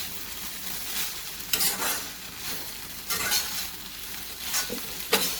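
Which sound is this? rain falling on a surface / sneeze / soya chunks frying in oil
soya chunks frying in oil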